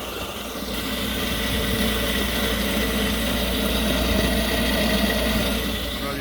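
A furnace inducer blower motor with worn bearings runs steadily, giving a loud, continuous mechanical drone and rumble that holds at an even level from start to finish.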